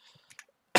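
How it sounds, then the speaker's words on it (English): A single sharp human cough bursts out close at the end of a brief quiet stretch. "still got a little bit of a cough though"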